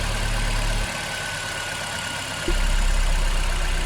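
Suzuki Jimny engine idling after an overnight cold start outdoors, a steady low rumble that drops slightly in level and then rises again as the idle note changes, with no talking.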